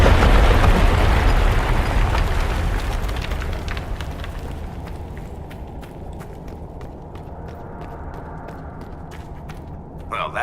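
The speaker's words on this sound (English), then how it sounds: "Let's go explode some Gatlock." An explosion set off with primers in the video game Dragon Age: Inquisition: a loud, deep blast that slowly fades into rumbling debris and scattered crackling pops and creaks.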